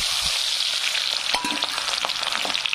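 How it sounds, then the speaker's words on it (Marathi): Onions frying in oil in a kadhai for Kolhapuri mutton curry, giving a steady close hiss and sizzle throughout with faint crackles and light stirring taps, with no talk. "कांदा छान असा फ्राय होऊ द्यायचा।"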